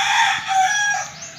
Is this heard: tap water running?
no